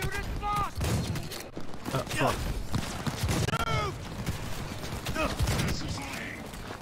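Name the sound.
gunfire from the player's gun in the video game Cyberpunk 2077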